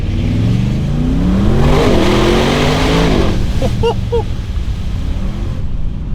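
An Audi RS6 GT revs hard at full throttle, its loud exhaust rising in pitch through gear changes before easing off, with a couple of brief chirps over the rumble.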